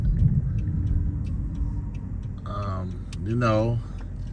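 Riding as a passenger in a car, with a steady low road rumble and engine hum throughout, a faint ticking, and a voice or tonal sound rising over the drive near the end.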